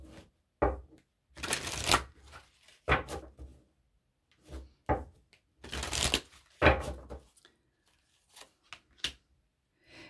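Angel love oracle cards being shuffled by hand in bursts of riffling and slapping, with several dense rustling bursts separated by brief pauses and lighter taps toward the end, close and clear with no talking.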